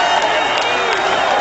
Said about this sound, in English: This crowd is going nuts.